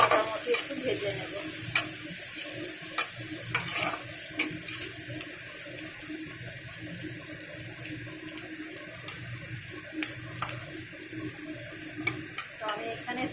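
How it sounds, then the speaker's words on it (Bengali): Chopped onions sizzle steadily in a frying pan while being cooked for tandoori biryani, a constant close hiss dotted with occasional stirring clicks and scrapes, with no talking. "পেঁয়াজটাকে বেশ মোটামুটি একটু ভেজে নেব।"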